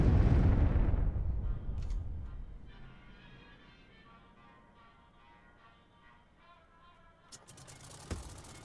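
A bombing explosion in the KARDS card game. A loud, booming blast opens, then decays over a few seconds into a faint tonal game ambience, and a brief sharp click-like hit comes near the end.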